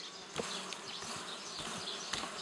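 Many bees buzz together in a dense, steady drone, close by, with occasional individual insects whizzing past, at hives during honey extraction.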